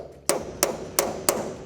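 Four sharp metallic hammer strikes on a punch against a rivet mandrel, evenly spaced and loud, ringing briefly after each blow.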